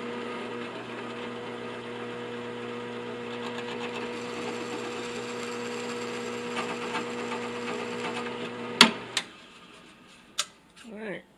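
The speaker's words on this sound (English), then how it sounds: "Now we're going to put a 3/8 hole in the end block here to accept the spring." A drill press or power drill runs steadily while boring a 3/8-inch hole through the wooden end block of a handmade turkey box call, a continuous motor whine for several seconds, then stopping with a few sharp knocks and clatters at the end.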